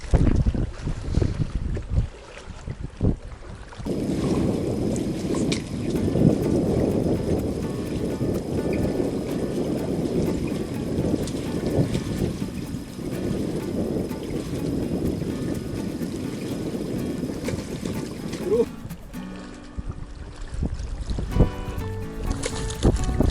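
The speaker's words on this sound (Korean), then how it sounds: "바람 많이 부니까." Strong wind at a freshwater crucian carp fishing spot, a steady loud rumble buffeting the microphone for most of the stretch before it eases near the end, with no voices heard.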